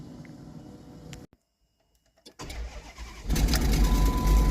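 A 2006 Dodge Durango 4x4 engine cranks after a brief silence, then catches and roars to a loud, rough idle, close by.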